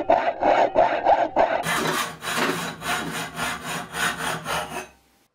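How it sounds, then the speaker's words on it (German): Steady back-and-forth strokes of a hand saw cutting through aluminium tubing, close and rhythmic, ending abruptly after about a dozen strokes. "Also säge ich mir ein so langes Stück vom Rohr ab."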